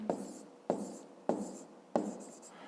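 Numbers being handwritten for a fifth-grade maths exercise: four distinct pen strokes on paper in a steady rhythm, each a sharp scratchy onset fading quickly, close and fairly quiet, with no talking.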